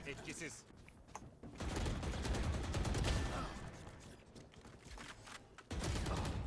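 Rapid bursts of video game gunfire fill the scene, with dense volleys swelling and dropping, mixed with game effects and a voice talking and laughing over the shooting.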